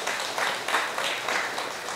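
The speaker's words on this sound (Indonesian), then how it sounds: "Tepuk tangan yang luar biasa." A short burst of audience applause at a church gathering, with steady, moderately distant clapping from a crowd.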